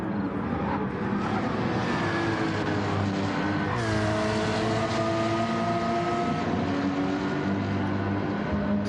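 A Porsche race car in a Gran Turismo Gr.4 race holds a continuous engine drone, its pitch dropping and climbing again through gear changes, loud and steady with no talking.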